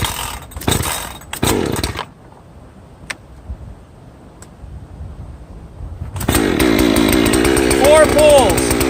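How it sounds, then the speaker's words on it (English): A 62 cc TimberPro chainsaw is pull-started cold at 30°F with choke and decompression valve. A couple of sharp rope pulls are followed by a quiet gap, then the engine catches and runs loud and steady up close. "Press the decompression valve and give it a couple pulls."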